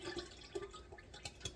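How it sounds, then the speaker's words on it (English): Thick, muddy Essiac herbal tea poured carefully into a container, soft gurgling and dripping with a few brief splashy pulses, faint and close. "to try really carefully to pour it in there without spilling it."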